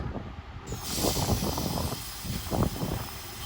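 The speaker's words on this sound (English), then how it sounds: "train also zoomed past" A train zooms past at Roby station, a loud, close, rushing roar with rumbling wheel noise and a high whine, sustained throughout.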